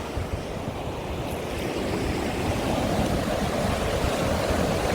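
Water in the Wangpi River flows downstream in a continuous rushing wash, close and fairly loud, with wind buffeting the microphone and a slight rise in volume partway through, and no talking.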